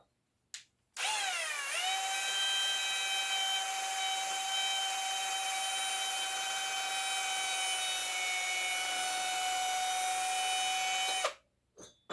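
A power drill spins up and runs at a steady high-pitched whine for about ten seconds, close by, cleaning out engine cylinders, then winds down and stops.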